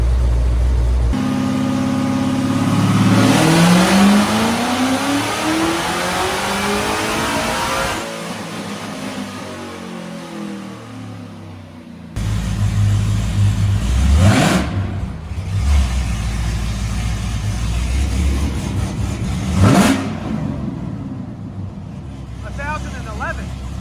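A Cadillac CTS-V engine revs hard several times, sweeping up in pitch and dropping back, loud and close with a throaty, muffled note from its closed exhaust.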